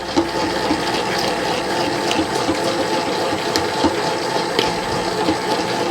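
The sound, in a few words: biga pizza dough bubbling and popping in a mixer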